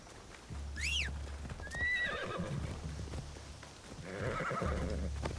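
Video game horse hooves clip-clopping at a quick pace, with a whinny and a couple of high chirping calls over the running, in Assassin's Creed.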